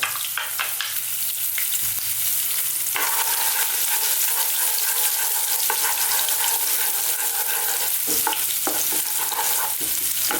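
Garlic and ginger frying in hot fish oil for Chinese takeaway-style sweet and sour fish: a steady, loud, close sizzle with intermittent scraping of stirring throughout, no talking.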